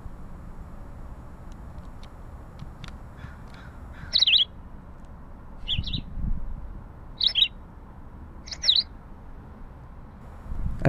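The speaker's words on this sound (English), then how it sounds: "The Philadelphia Vireo." Short bright Philadelphia Vireo song phrases, played from a birdsong book, repeat about four times at even intervals, clear over a quiet low background.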